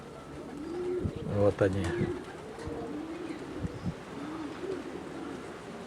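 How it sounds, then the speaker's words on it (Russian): Young pigeons coo in soft, low repeated phrases close by, with a few louder bursts mid-clip, while a person speaks briefly over steady wind-like background noise. "Это первые голубятка."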